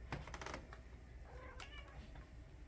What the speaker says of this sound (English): These little shits that you hear meowing.